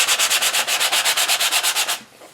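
A nail block scrubs a notebook cover to rough up its surface and take off the shine, making about fifteen fast, even strokes of close, dry rasping that stop near the end.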